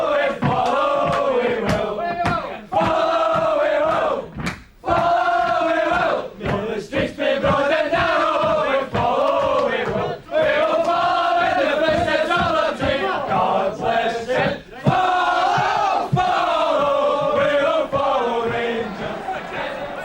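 A large Rangers football crowd cheers and chants for the champions, with dense, rhythmic massed singing and roaring that swells and dips in waves throughout.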